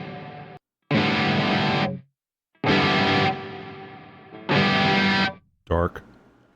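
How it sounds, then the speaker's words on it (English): Electric guitar played through the GigFast Mobile amp app with reverb, heard as short strummed chords that ring out with a lingering tail, separated by brief silences. "this reverb is what we're listening to"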